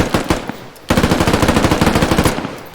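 An M4B2 rifle firing in the video game Squad with a tactical realism mod, a short opening burst and then a loud, steady rapid-fire stream of evenly spaced shots, close and alone.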